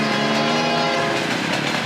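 A train rumbles past in a video game, a loud continuous roar with a steady rail-like clatter running throughout.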